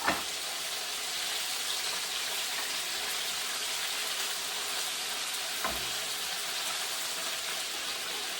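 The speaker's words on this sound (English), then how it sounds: "so I'm going to like deep fry for the second time" Pork tenderloin deep frying in hot oil for a second fry, a steady dense sizzle and crackle that holds even and fairly quiet throughout, with one brief louder pop partway through.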